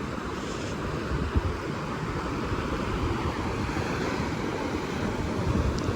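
Sea waves wash onto a beach in Goa, making a steady, loud, broadband roar of surf that goes on without a break. Wind rumbles through it and no one speaks.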